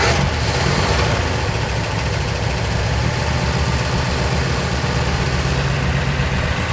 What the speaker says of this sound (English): it's kind of idling, still lopey. Oh boy. And very chattery.